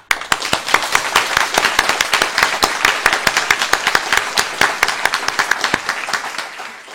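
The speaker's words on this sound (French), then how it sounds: "on va t'applaudir tous ensemble" Group of school students clapping together for a classmate during a live link-up with the space station, loud and close with sharp individual claps forming an uneven rhythm before it stops abruptly.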